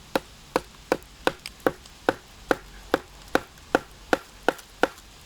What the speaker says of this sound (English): striking a knife with a baton